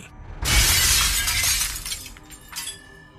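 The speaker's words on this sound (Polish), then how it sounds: "Rozległ się huk tłuczonego szkła." Glass shatters when a thrown stone hits a door, a sudden loud crash followed by a second or so of tinkling fragments and a smaller late clatter of falling shards.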